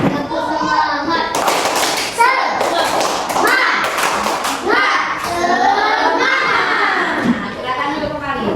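Classroom children stand and perform a rhythmic clapping chant, hands beating in quick patterns alongside loud shouted voices, busy and close throughout.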